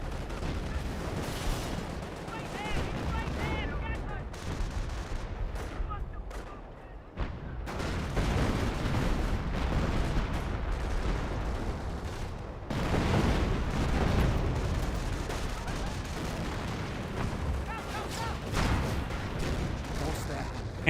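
Firefly tank guns firing in Company of Heroes, a wartime strategy game: repeated heavy booms and battle explosions spread across the scene, with a commentator talking over the fighting.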